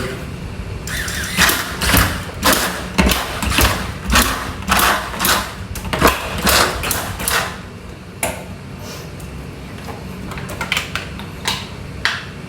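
A drinking water bottle capping machine works in a series of rhythmic mechanical thumps and clacks, roughly one per half second, then a few sparser strikes near the end, close and fairly loud with no talking.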